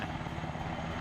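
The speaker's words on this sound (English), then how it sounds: "Op 4's helicopter is landing" A helicopter lands in a military video game at night, its rotor and engine making a steady, loud, continuous drone throughout with no speech.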